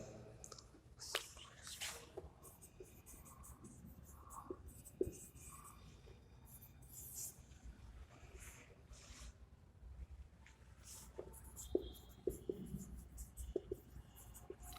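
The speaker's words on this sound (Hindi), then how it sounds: "मैं कुछ यहां पर वर्ब लिखता जा रहा हूं" Marker scratching out verbs on a classroom board in short, irregular strokes, soft and close, with low speech faintly present in places.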